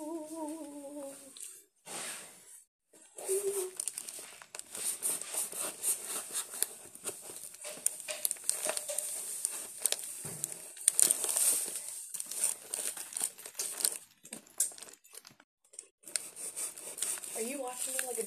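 A gift package from Scotland is cut open by hand, with crinkling wrapping, scissor snips and rustling spread over the span, while voices talk at the start and end.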